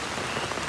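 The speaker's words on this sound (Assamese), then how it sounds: "বৰষুণ বতৰ পূৰা" Rain falling on a rainy day at Dibrugarh University, a steady, soft patter of drops on surfaces, continuous and fairly quiet with no voices.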